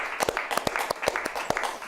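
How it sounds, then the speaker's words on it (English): A small audience applauds at a live music show, a brief patter of claps fairly close and moderately loud with some mixed voices. "I'd like to give her a round of applause."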